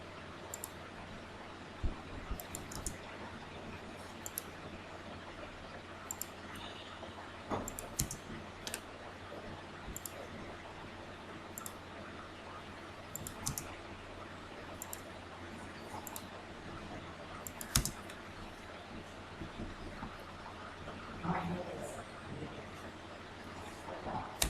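Computer mouse clicks and light keyboard taps while drawing in CAD, scattered sharp clicks at irregular intervals, quiet and close over a soft room hiss.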